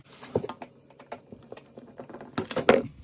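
Screws being removed from the kick plate of an old Samsung dishwasher, heard as a string of light clicks and taps from a screwdriver, close by and irregular, with a brief louder rattle near the end and no talking.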